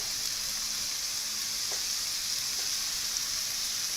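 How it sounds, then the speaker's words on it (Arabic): Three onions softening in two spoonfuls of ghee in a pan, a steady hissing sizzle with a couple of faint stirring taps, close and even, no voices. "احنا عايزين البصل بتاعنا ما يتحمرش، احنا عايزينه يتشوح ويدبل"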